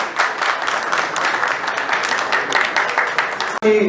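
An audience claps to welcome a guest onto the stage at a music show launch, steady applause from a crowd that continues evenly before cutting off abruptly near the end.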